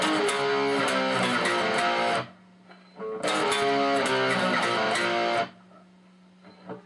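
Two loud, distorted electric guitar power chords ring out for about two seconds each, separated by a short pause with faint string noise.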